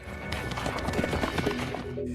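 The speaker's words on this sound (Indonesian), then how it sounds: "Akhirnya tim yang kasihan dengan Kit, ia membawanya pergi dengan menggunakan kuda." Horse galloping away in a film scene, quick hoofbeats clattering in a fast, uneven rhythm over a busy soundtrack backdrop, fairly close and prominent for a couple of seconds.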